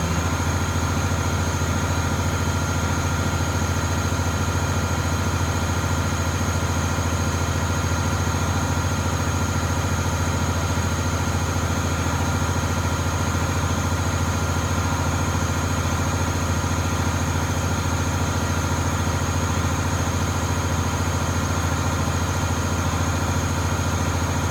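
A school bus diesel engine running on fast idle to build up air brake pressure during a pre-trip inspection, a steady, loud, unbroken drone that holds the same even hum throughout.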